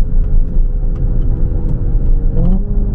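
A Hyundai Ioniq 5 N electric car playing its simulated V6 engine sound through a downshift, a steady loud rumbling drone with a brief rise in pitch near the end, heard from inside the cabin with no talking.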